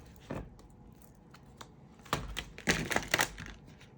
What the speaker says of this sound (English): I'm gonna shuffle the cards about like 3 times